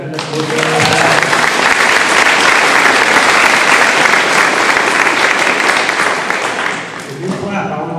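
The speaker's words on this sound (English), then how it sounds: "if you clap, I don't know when to stop" A crowd at a high school celebration bursts into loud, sustained applause that swells within the first second, holds strong for several seconds, then tapers off near the end.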